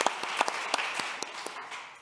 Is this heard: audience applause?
yes